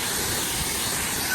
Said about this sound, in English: I said you can turn off the power wash reset